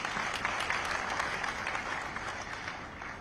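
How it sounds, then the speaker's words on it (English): Sustained audience applause fills a tax policy conference hall, a dense steady wash of many hands clapping at moderate distance, with no speech over it. "Let's give her a round of applause."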